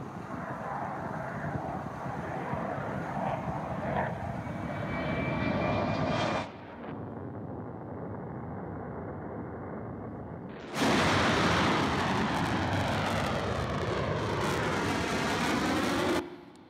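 A Blue Angels jet passes over an air show crowd as a loud, sustained engine roar that surges to a harsh, full-spectrum blast about two-thirds of the way through and holds before cutting off.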